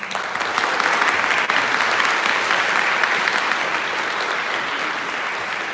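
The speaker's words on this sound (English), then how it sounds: "Can we give them a round of applause?" Sustained applause for honorees at the National Book Foundation's 5 Under 35 ceremony, a dense, even roar of clapping from a large audience that stays level for nearly six seconds.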